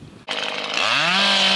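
A chainsaw starts with a sharp crack and quickly revs up to a loud, steady, buzzing whine, heard outdoors across fields near a rural Hampshire pub.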